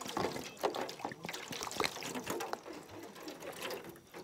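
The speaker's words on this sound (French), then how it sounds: "Nous allons ajouter de l'eau. Nous allons ajouter 1 litre d'eau." A litre of water is poured out in a quick, uneven splashing trickle with small knocks and gurgles, close and fairly quiet, for use as a garden fertilizer mix.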